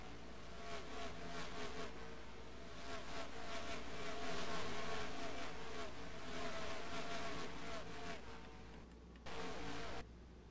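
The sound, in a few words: race cars flying by in an online racing game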